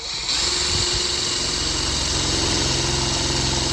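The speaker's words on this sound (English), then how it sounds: "So you drill your hole where you want it." A power drill boring a hole in a 100-gallon Rubbermaid tub for a homemade pig waterer, a steady, loud motor whine that starts abruptly and runs continuously, with no talking.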